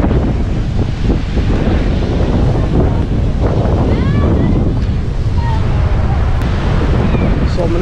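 Sea waves wash continuously onto the Somnath seashore, mixed with strong wind buffeting the microphone; faint voices are audible in the background.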